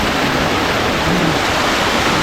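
A river rushes steadily and loudly in a broad, even wash of flowing water with no voices.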